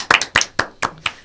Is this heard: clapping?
yes